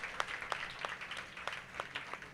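A church congregation claps in praise during a Sunday worship service, a steady run of bright, sharp claps about every third of a second, moderately close and without speech.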